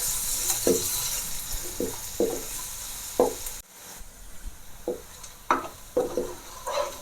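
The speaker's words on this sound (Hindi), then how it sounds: "प्याज को भी हम लाइट ब्राउन कर लेंगे।" Onions frying in a pan with garam masala, a steady sizzle under repeated clinks and scrapes of a spoon stirring at an uneven rhythm.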